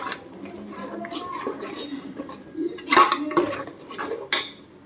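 A spoon stirring spices in a metal cooking pot for an egg curry, with repeated scraping clinks and knocks against the pot, a couple of louder metallic hits near the end, close up, no talking.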